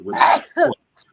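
A person lets out a single close, loud sneeze in two quick bursts, a drawn-in build then a sharp explosive release, followed by silence.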